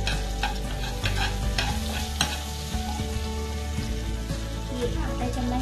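A bay leaf and spices sizzle in hot oil for paneer butter masala, a constant crackling fry close up with stirring scrapes over it, loud and unbroken throughout.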